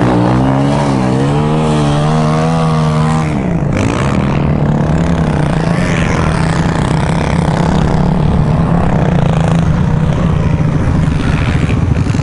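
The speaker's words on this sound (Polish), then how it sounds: "Motorem tam podjadę." A motorcycle pulls away and revs, its engine rising through climbing gear-like sweeps before settling into a steady, loud drone that runs close and unbroken for the rest of the stretch.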